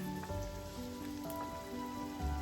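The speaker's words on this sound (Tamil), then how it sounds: "எண்ணெய் விட்டு கடுகு போடணும்" Mustard seeds splutter in hot oil in a small ladle, giving a faint, steady crackle of tiny pops like light rain, with a soft tonal hum behind it.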